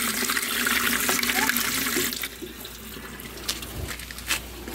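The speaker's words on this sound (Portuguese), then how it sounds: "a água aqui chega bastante forte" Water gushes strongly from a new tap in a newly moved-into house, a loud steady rush for about two seconds that then drops to a quieter trickle with faint background sounds.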